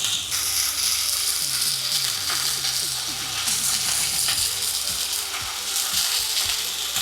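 Juicy Lucy burger patties frying in a pan, giving a loud, steady, close sizzle with crackling and spitting that runs unbroken, plus faint scraping clicks underneath.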